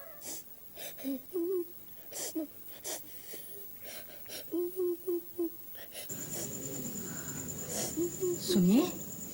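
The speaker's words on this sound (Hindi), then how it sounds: "नीचे से किसी के रोने की आवाज आ रही है।" Someone cries downstairs in a household scene, with repeated short whimpering sobs and wheezy breaths, a soft voice talking nearby and a louder wailing sob near the end.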